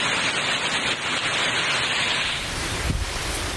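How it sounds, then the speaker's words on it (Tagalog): Heavy rain and gusting wind from Typhoon Rolly in Albay, Bicol, make a dense, steady hiss, with the wind buffeting the microphone and swelling toward the end. "nang maramdaman ang malakas na ulan at hangin sa probinsya ng Albay"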